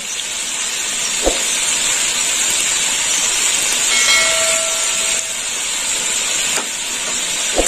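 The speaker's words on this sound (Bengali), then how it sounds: "আলুটা আরেকটু ভাজা হবে।" Potatoes, about 800 grams, frying in a pan with a steady loud sizzling hiss throughout, punctuated by a few brief clinks of stirring.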